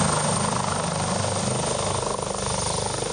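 A search helicopter over the hills of Marostica, its rotor a loud, steady, close drone that fills the whole clip.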